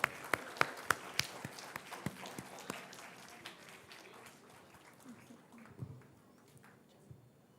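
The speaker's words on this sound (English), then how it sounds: "Let's have a huge round of applause." Scattered hand claps from an audience at a club installation ceremony: a few loud separate claps at first, then thinning and fading into faint, sparse clapping in a quiet room.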